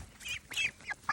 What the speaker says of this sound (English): But the ducks are the sweetest ever.